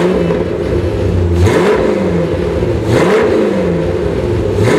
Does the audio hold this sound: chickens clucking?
no